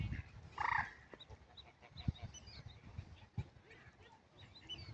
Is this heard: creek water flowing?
no